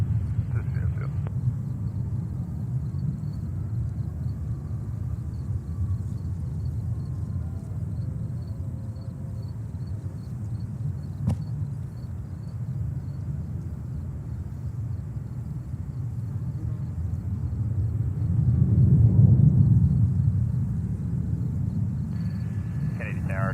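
A Norse Boeing 787-9 Dreamliner jet rumbles at a distance near a New York airport, a low steady roar that swells briefly before easing, heard outdoors with wind.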